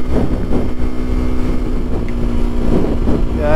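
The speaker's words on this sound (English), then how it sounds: "this wind is really picking up" Strong wind buffeting a motorcycle helmet camera on a GoPro Hero 8 Black setup, a loud continuous roar with a steady low engine drone underneath, near and unbroken throughout, with no talk.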